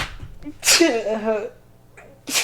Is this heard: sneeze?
yes